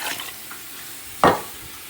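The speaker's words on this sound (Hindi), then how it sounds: "अब हम इसको पानी लगा" Water hits a hot pan of frying goat feet paya masala, a sudden loud sizzling burst that fades quickly after faint stirring and pan sounds.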